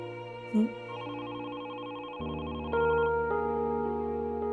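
A steady electronic ringtone of sustained tones plays, its pitch shifting partway through, with no one talking over it.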